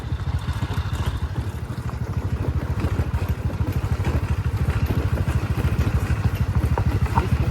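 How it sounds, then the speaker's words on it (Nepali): A rickety scooter rides over a rough, rocky mountain road, its engine thrumming in a steady rapid pulse with rattling clatter throughout, loud and close. "घात्रा घुत्रुक स्कुटर त्यसमाथि"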